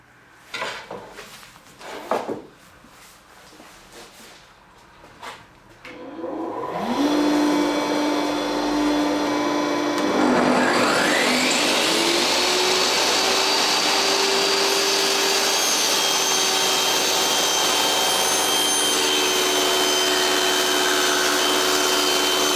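A table saw motor spins up and runs steadily, loud and continuous, with a high whine rising and holding as it cuts through 2 cm wood stock, following a few sharp knocks of clamping and setup at the start.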